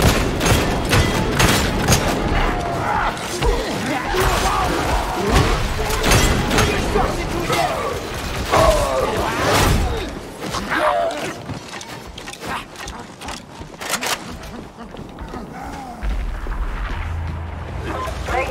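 In Darktide, a Veteran Sharpshooter fires a combat shotgun in repeated loud, booming blasts mixed with clattering combat noise, while voices shout over the fighting.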